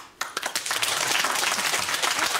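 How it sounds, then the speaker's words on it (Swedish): Sudden burst of audience applause at a televised political debate, starting after a moment of quiet and holding as dense, steady clapping from a crowd. "Och kvällens första applåd!"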